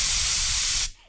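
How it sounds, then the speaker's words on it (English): A can of cheap dollar-store aerosol bug spray fires one loud, close, continuous hiss that cuts off sharply after under a second. "I'm getting the bug spray."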